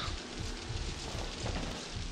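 Steady broadband hiss of rain falling in the horror video game Outlast, a dense, continuous patter with low rumbling undertones, evenly loud throughout and no talking.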